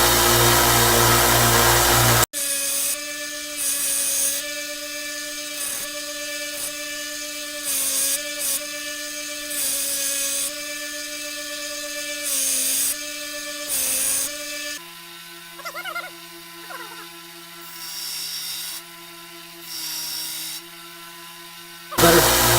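A railroad spike tomahawk is ground on a power grinder, a loud high whine that starts and stops in repeated passes, each run steady and close, with a brief louder burst at the very beginning.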